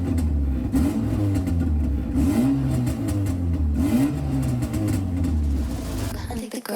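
A VW Golf GTI MK2 with an 8-valve EV engine runs while warming up: a steady, close mid-pitched engine note swelling with repeated light revs.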